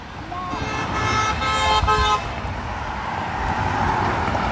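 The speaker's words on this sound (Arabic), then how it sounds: "بدنا زمور عالي عالي تبع الشاحنات" A loud truck horn blares for about two seconds over rumbling road traffic in Germany, then fades as engine and road noise continue.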